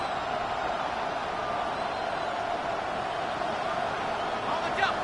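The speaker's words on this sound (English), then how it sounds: "This crowd trying to be a factor, getting very loud now." Football stadium crowd at a 49ers versus Buccaneers game, a steady, dense roar of many voices that holds loud throughout, like a wash of sustained noise.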